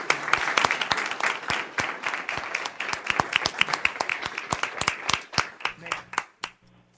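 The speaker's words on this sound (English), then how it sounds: "Let's give a big round of applause for our representatives." Room full of people at a city council meeting clapping in a lively round of applause, dense and close, tapering off into a few last claps near the end.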